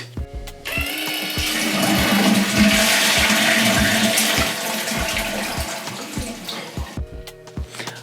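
A toilet flushes with a loud rushing of water, then settles into a steady tank-refilling hiss over several seconds, with a few clicks at the start and end.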